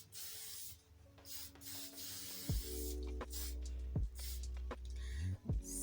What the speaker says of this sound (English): I'm gonna give it a bit of shine with the olive oil sheen spray.